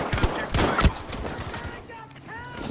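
Rapid gunfire from a video game gun: a quick run of sharp close shots that fades into softer trailing sounds.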